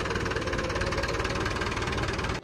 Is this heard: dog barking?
no